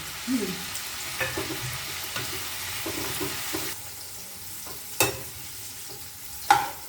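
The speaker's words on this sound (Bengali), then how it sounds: "তারপর আমি এই গাজরটা আছে, গাজরটা একটু দিয়ে দিলাম।" Carrot, green beans and potatoes stir-fry in a pan for vegetable pulao, with a spatula scraping and knocking at intervals over a close, constant sizzle.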